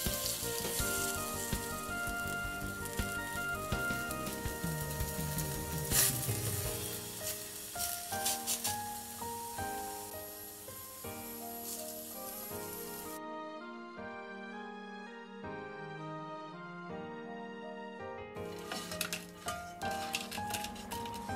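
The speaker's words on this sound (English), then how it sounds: "Pan fry the sliced potato until nicely brown on both sides." Sliced potato pan frying in vegetable oil gives a continuous close sizzle, partly covered by loud background music that drops out briefly near the middle.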